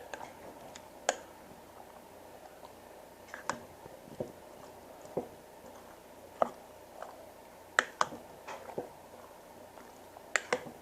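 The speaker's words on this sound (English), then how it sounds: "Just kind of stir it there a little bit." Ground beef for chili being stirred in a pot, with sparse sharp spoon clicks and taps against the cookware over a quiet background, close and fairly faint, no voices.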